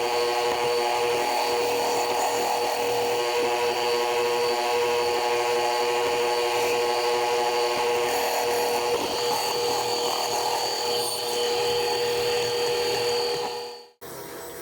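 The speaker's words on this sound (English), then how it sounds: "I'm going to take it to the bandsaw and rough everything in." A bandsaw cuts an oak knife handle, with a steady, loud, whining motor hum and a harsh cutting tone that runs continuously for about fourteen seconds before a brief dip.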